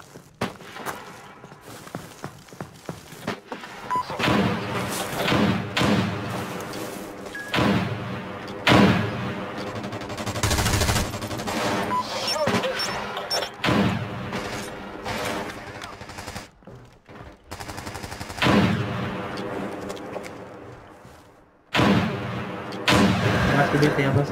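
Repeated bursts of gunfire in the video game America's Army crack and thump throughout, some rapid and some single, with voices talking over the shooting.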